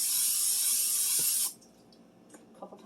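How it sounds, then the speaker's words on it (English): Cooking spray hisses steadily into a Dutch oven in one continuous burst of about a second and a half, followed by faint clinks and handling sounds. "Now go ahead and spray your Dutch oven"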